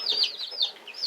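Young chicks in a home brooder chirp and peep continuously in high, wavering calls, several birds overlapping close by with no talk.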